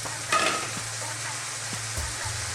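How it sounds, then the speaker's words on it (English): Onions for mince fry in a pan with an even, close sizzle. A brief louder scrape comes early, followed by a few soft knocks of a utensil, and no voices are heard. "next I'm going to go in with some onions"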